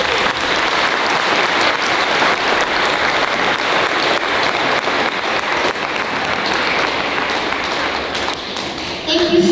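An audience at a school United Nations Day event applauds the students, dense continuous clapping that stays loud for the whole stretch, with a voice faintly mixed in near the end.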